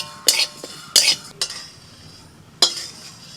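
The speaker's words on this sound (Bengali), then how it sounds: "গোটা জিরে একটু শুকনো কড়াইতে ভেজে নিচ্ছি।" Whole cumin seeds being dry-roasted in a wok, heard as four sharp metallic scrapes and clinks of a utensil against the dry pan, separated by quiet gaps.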